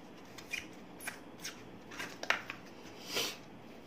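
A paper napkin is folded and pressed down into a small 3 to 4 ounce deli cup, giving soft, intermittent crinkles and rustles up close, with a few sharper crisp rustles and quiet gaps between them and no voices.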